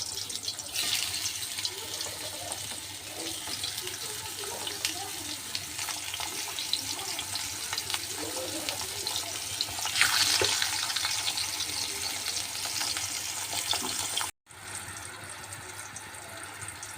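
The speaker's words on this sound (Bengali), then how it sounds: "চাল কুমড়ায় লবণ হলুদ দিয়েছি, এখন ভালোভাবে মেখে ভাজতে দেব।" Ash gourd pieces coated with salt and turmeric fry in hot oil in a wok, giving a steady, dense sizzling hiss that continues throughout and briefly cuts out near the end.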